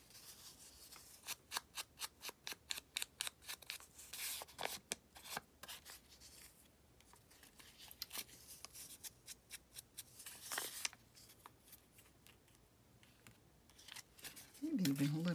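Scissors snip through a playing card for a collage, a quick rhythmic series of close, crisp cuts with short pauses between bursts, paper rustling near the end.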